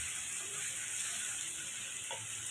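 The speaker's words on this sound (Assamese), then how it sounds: "ভালদৰে লৰাই ল'ম" Duck and pumpkin curry stirred in a pan gives a steady, close sizzling hiss, with soft scraping from the stirring.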